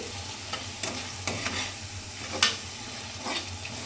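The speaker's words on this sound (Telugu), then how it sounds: "ఇవన్నీ బాగా కలిసిపోయేటట్టు కలుపుకొని" Chili powder and other ingredients are stirred together in a hot pan, giving a steady, close sizzle with a few sharper scrapes of the spoon.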